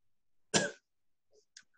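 A person imitates a cough with a single sharp, close cough, followed by faint small throat sounds in an otherwise quiet room.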